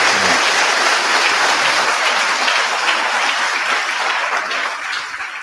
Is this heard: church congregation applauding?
yes